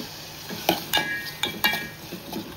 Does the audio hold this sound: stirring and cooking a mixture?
yes